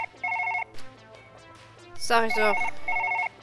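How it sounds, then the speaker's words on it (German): A telephone rings in the video game Surgeon Simulator 2013 in repeated short electronic trilling bursts, with someone speaking briefly in German between the rings. "Gleich wird das Telefon klingeln."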